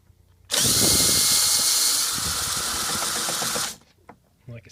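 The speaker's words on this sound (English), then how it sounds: "You put the drill on it." A power drill driving a 13mm bolt on a Sea-Doo jet ski whirs loudly at high speed for about three seconds, then winds down and stops, leaving faint handling noises.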